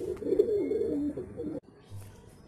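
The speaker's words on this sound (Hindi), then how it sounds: "आप लोग देख सकते हो मेरे हाथ में एक मैड्रेसी अबलूस कबूतर है" Madrasi Ablush pigeon cooing up close, a low warbling coo rolling for about a second and a half before dropping away to quieter soft murmurs.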